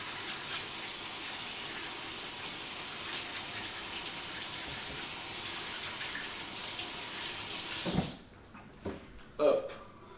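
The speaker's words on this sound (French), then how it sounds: "Moi je viens me laver les mains." Tap water running steadily into a sink as hands are washed in a home kitchen while baking brioche, then shut off, followed by a few light knocks and handling sounds.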